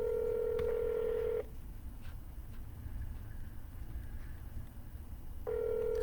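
Telephone keypad tones ring out steadily and clearly, one sustained tone at the start and another at the end, with a quiet stretch and faint room noise between them.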